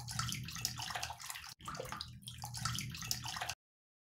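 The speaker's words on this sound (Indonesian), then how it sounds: "woi, woi, air terjun" Loud, continuous rush of falling water heard up close, a dense steady wash with one brief dropout.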